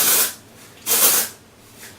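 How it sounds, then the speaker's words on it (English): Amika Undone texture spray is misted onto lifted hair roots in two close, loud hissing bursts of aerosol, the second longer, separated by a quiet pause and a faint third puff at the end. "So I'll just lift my roots up a little bit and spray the roots."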